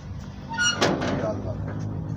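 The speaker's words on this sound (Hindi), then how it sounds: "दरवाजा बंद करो।" A door is shut indoors with a single brief thud, close by, while people keep talking over it.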